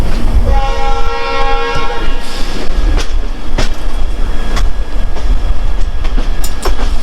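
Loud rumbling of the Humsafar Express entering Ludhiana station, with a sustained horn blast near the start, steady mechanical roar and periodic clanks as the cars roll along.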